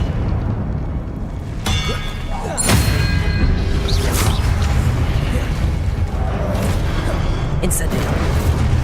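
An Expelliarmus spell is cast in the Hogwarts Legacy wizarding game: sharp magical cracks and clangs ring out amid rumbling combat effects, loud and close, under a background of battle noise.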